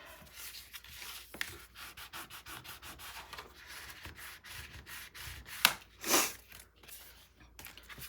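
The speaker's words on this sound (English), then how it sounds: "Now we're going to burnish." Paper for a scrapbook mini album is burnished with repeated rubbing strokes, a soft, close, rhythmic scraping that ends with a couple of sharper, louder swipes.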